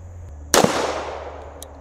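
A single sharp .45 ACP shot from a 1911 pistol fired into a stack of books, a sudden loud crack followed by a long fading tail of echo, with no talking.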